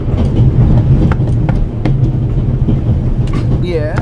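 Steady rumble of a moving train carriage in The Raven: Legacy of a Master Thief, aboard the Orient Express, with rhythmic rail clatter and occasional sharp creaks and squeals throughout.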